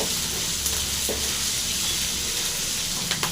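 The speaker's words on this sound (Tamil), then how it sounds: "பெரிய வெங்காயம், பூண்டு, அது நல்லா ஃப்ரை ஆகிட்டோம்" Onion, garlic and chilies fry in a pan for a masala gravy with a steady close sizzle and a light crackle, and a few faint stirring scrapes sound under it. No one speaks.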